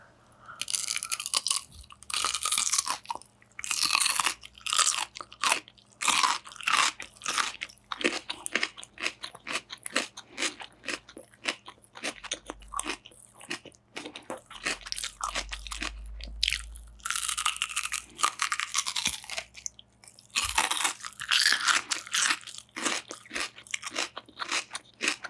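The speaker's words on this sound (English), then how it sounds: "But when I eat cabbage right now, it is very crunchy." Close, loud crunching and chewing of raw crunchy cabbage, with dense rapid bites and chews that come in bursts and short pauses throughout, and no talking.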